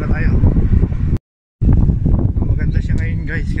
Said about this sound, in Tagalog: Yun nga lang medyo malakas ang hangin.